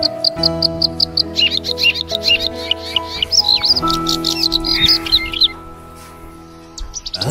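Birds chirp and call in quick, high, repeated bursts and trills, fairly close, over sustained low musical tones and a faint insect buzz, in a festive Gawai-season drama scene.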